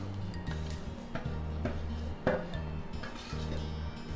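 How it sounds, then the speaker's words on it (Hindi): Dry fruits get stirred into sugar syrup in a pan, with a spoon clinking and scraping against the metal in quiet, irregular knocks over a low background hum. "अब हम इसमें अपने सारे ड्राई फ्रूट्स जो है वो डाल देंगे"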